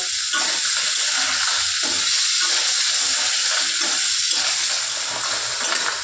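Steady, loud sizzling of food frying in hot oil, a continuous crackling hiss with occasional stirring scrapes, no voices.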